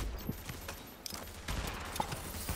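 Gunfire in the video game Tom Clancy's The Division, several sharp shots and short bursts scattered over a busy game soundscape, fairly quiet with some faint background voice.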